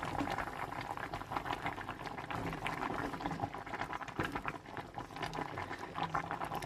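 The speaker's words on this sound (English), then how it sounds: "As you can see, it's all bubbling away really nicely." Homemade soup for a Hawaiian chicken recipe bubbles steadily in a pot, a continuous close, soft gurgling and popping simmer with no talk.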